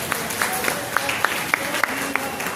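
Applause for a teacher at a felicitation ceremony, a hall audience clapping steadily with a few sharper, louder claps standing out over a couple of seconds.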